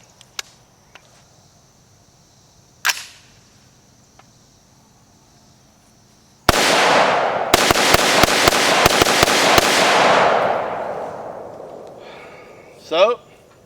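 A quick burst of loud shots from a BPM CQB short-barreled rifle, roughly eight in rapid succession, booming close by with a ringing tail, preceded by a few faint clicks.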